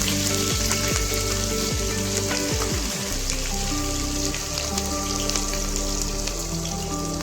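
Panch phoron, whole cumin and chopped green chilli fry in oil in a kadai, giving a dense, steady crackling sizzle like rain on a surface, with faint clinks from the pan.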